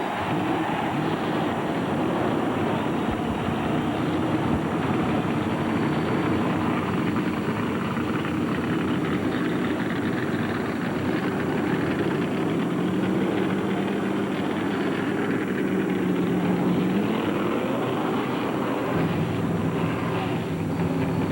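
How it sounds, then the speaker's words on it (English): Stock car race engines fire up together and rev at the start of a night race, forming a loud, steady, continuous roar that fills the whole stretch with no clear breaks. "Gentlemen, start your engine!"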